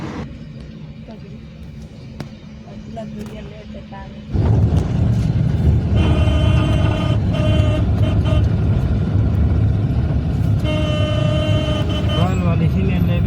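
A car pulls away during a Chhattisgarhi wedding, its engine surging to a loud, steady drone after a quieter start, with a horn toot and people talking over it.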